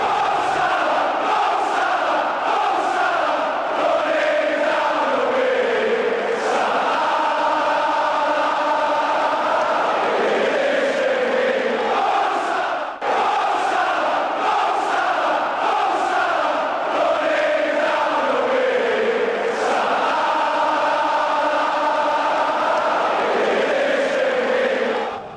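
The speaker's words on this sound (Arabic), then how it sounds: "تعالوا نشوف هذا الفيديو الاحتفالي احتفال الجماهير بمحمد صلاح" Football fans celebrate Mohamed Salah with loud, sustained crowd chanting and cheering. The roar stays steady and dense throughout, broken only by a brief dip midway.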